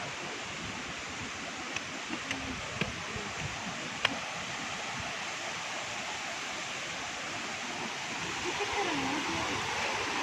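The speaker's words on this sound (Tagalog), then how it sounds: "The beauty of this falls." Kinahulugan Falls in Lagonoy, Camarines Sur, a steady broadband rush of falling water heard up close, with a few short taps and faint voices talking now and then beneath the constant roar.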